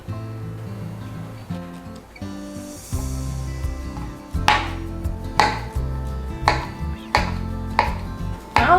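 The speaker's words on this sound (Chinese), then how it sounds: "然后切成片状" A knife slices fresh shiitake mushrooms on a cutting board, giving a run of crisp, evenly spaced chops, close and fairly loud, with a faint musical bed underneath.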